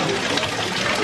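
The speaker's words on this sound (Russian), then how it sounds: "Поскольку сегодня дождь, здесь везде такие маленькие ручейки сверху." Small stream of glacier meltwater flowing in an ice cave in Iceland on a rainy day, a steady close splashing gush with no clear talk.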